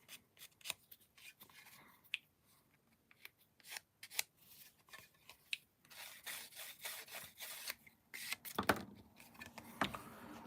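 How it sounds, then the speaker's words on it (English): A sanding stick rubs against the plastic of an Airfix Concorde model kit in quiet, irregular scratchy strokes, close and fairly faint. "Got to love a good sanding stick."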